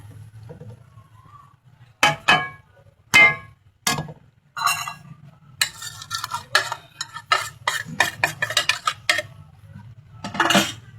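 A spoon stirs and scrapes roasted semolina with grated coconut and melted sugar for turmeric halwa in a pan: irregular clinks and scraping strokes, close and crisp, over a low hum.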